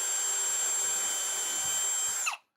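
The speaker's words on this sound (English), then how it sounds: "I am not skilled with the drill." Power drill boring a hole during a remote-control model build, a steady high-pitched whine running loud and continuous for over two seconds before spinning down abruptly and stopping.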